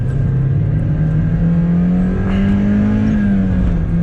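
A 1999 Mazda Miata NB with a manual gearbox revs up loud and close, its engine note climbing steadily, then easing briefly as it shifts through the gears, with no talking.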